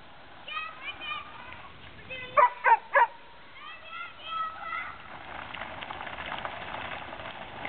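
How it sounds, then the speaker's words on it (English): A dog gives a quick burst of three sharp barks at moderate distance outdoors, surrounded by children's playful voices and chatter before and after. "And the dog, of course, is very protective."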